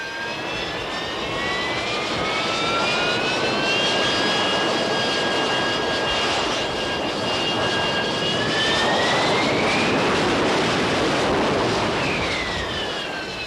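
A Sea Harrier jet's Rolls-Royce Pegasus engine roars loud and steady for the whole stretch, its high turbine whine shifting in pitch as it holds a hover.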